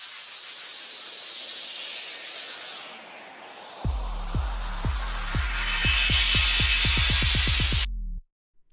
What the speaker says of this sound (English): So you just build up the kick drum in speed.